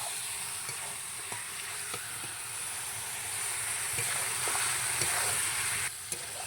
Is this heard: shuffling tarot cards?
no